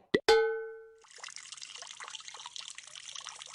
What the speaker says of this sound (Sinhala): මම මේ වතුර වලට සුරුදිය කරන්න ආවා